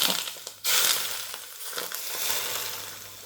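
Heated oil poured into a bowl of dough for meat and chive buns sets off a sudden loud sizzle and crackle that swells, then settles into a steady frying hiss.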